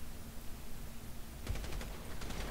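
Gunfire in the video game GTA V, a quiet burst of several rapid shots in the second half of the clip over a steady background hiss.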